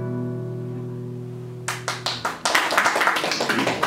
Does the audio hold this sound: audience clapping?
yes